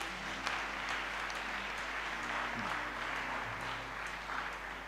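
A church congregation applauds at a worship service, the clapping steady and crowded across the room. A low constant hum sits beneath the applause, and a few louder claps stand out near the start. No one speaks.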